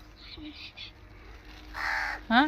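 A crow caws nearby, a couple of harsh calls with a final louder caw, with faint Tamil-speaking voices in the background.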